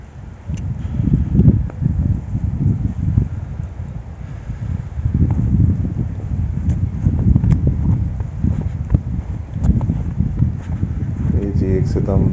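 Strong wind gusting across snowy Paloga Valley in Kalam, blowing loud, close and buffeting against the microphone as a continuous low roar, with faint voices mixed in.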